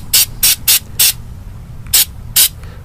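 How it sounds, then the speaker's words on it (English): Rubberized undercoating is sprayed from an aerosol can onto metal on an early Ford Bronco in six short, sharp hissing bursts, the first four quick and evenly spaced, then a pause before two more, close and loud over low background hum. "I use this rubberized undercoating, and I'm gonna spray real quick"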